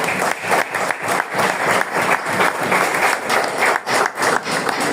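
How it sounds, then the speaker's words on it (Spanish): A church congregation claps together after a sermon passage, a loud, close, rhythmic wash of hands beating in steady pulses throughout. "Dale palmas al Señor"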